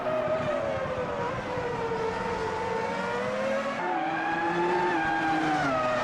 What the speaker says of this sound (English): Big burn up of the inside rear tyre.